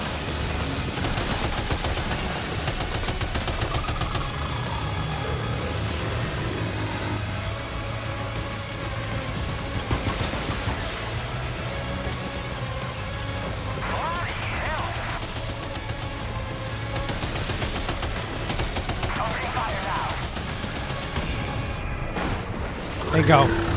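Gunfire in Death Stranding 2, bursts of rapid shots over a steady game drone with someone talking throughout, ending in a louder blast near the close.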